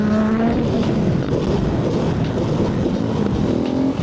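Honda Grom motorcycle on the highway at nearly 70 mph during a supermoto ride meet. A steady, loud engine drone with wind rush runs throughout, heard up close and unbroken from a moving vehicle.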